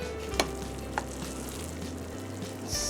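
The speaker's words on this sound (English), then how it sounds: "It's sizzling so much." A steady, close-up sizzle from a hot low-carb casserole crackles continuously, with a couple of small pops and a low hum underneath.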